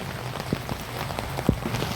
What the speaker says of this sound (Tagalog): Lakas pa rin talaga ng ulan.